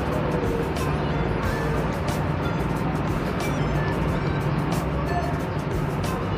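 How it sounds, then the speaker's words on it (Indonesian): A bus pulls in at a busy Indonesian bus stop, its steady engine rumble filling the scene alongside continuous road noise and other traffic, with no clear talk over it. "Dan ada bus datang dari Mira."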